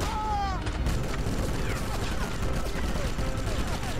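Rapid gunfire and bursts of shooting from the Sniper Elite video game, steady and dense throughout with whistling tones overhead, loud and continuous against a busy battle backdrop.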